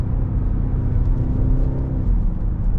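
BMW X5 M50i SUV with a deep low exhaust rumble and a steady engine drone while taking a corner, close and continuous with faint subtle burbles and no talking.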